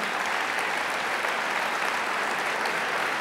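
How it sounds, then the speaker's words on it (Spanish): Dense, steady applause from a large audience at a formal Argentine government ceremony presenting the new legal code, loud and continuous throughout without speech. "si aplaudan, por favor, me parece muy bien."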